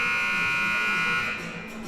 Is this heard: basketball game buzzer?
yes